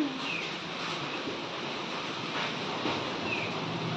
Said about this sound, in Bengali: কি হাওয়া বইছে বাপরে